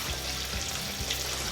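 Khaja (chiroti) pastry dough frying in hot oil, with a steady, soft sizzling crackle that stays even and close throughout, and no voices.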